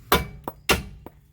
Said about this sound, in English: And I'm going to hammer the bottom of the nut.